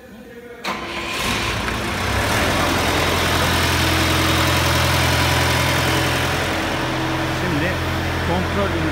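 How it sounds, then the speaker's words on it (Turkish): A diesel engine on a front-loading lowbed semi trailer with a foldable gooseneck cranks within the first second and settles into a loud, steady idle close by. "Sonra motor kontrol bölümündeki kontak kısmından marş yapacağız. Motorumuz dizel."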